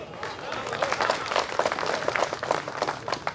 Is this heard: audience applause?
yes